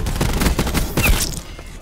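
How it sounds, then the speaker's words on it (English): Rapid bursts of gunfire in the Call of Duty Black Ops 4 multiplayer game on PC, loud and continuous, with dense overlapping shots from close range and no talking. "this guy is rapid fire"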